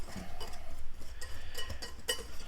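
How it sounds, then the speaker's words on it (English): A fork lightly beats eggs in a bowl for scones, giving a quick run of soft, close clinks and taps against the dish. "A fork to lightly beat the eggs"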